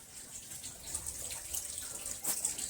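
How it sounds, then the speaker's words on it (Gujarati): Water runs from a tap in a quiet, continuous flow, with a few brighter splashes rising briefly above the steady stream. "પાણી પણ આવી ગયું."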